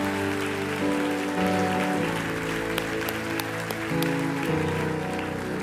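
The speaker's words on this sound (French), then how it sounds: "Non, acclame-le encore." A church congregation applauds and cheers, with sustained clapping like rain layered over a steady sustained organ or keyboard chord.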